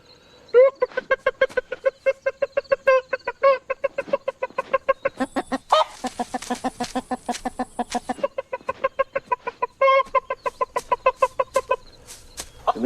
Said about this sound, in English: he lures her by making a sound when he finds a piece of grain or something